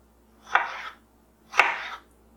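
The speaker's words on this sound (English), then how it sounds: "I'm going to slice Danny a little bit of this tomato off for his supper." A knife chops through a tomato on a board, two crisp, separate cuts about a second apart, each a sharp knock followed by a short wet rasp, close and clear against a quiet room.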